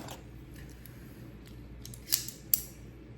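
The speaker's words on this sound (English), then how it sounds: "This is a Gerber tool, multi-tool, right? Knife, screwdriver, saw, whatever I may need." A Gerber multi-tool is handled quietly, with soft metallic clicks and a pair of sharp snapping clacks from its folding parts against faint background hiss.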